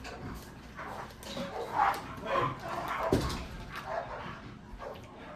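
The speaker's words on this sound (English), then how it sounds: "We had a dog fight outside," Several dogs bark, yip and whimper in a scuffle outdoors, the noise rising and falling in excited bursts at moderate distance, with faint voices mixed in.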